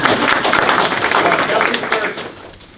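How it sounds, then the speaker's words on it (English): An audience at a developer conference's lightning talks claps together in a dense, steady burst of applause that tapers off toward the end. "Everyone clap with me."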